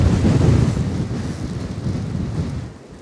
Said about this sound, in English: It's a full value wind.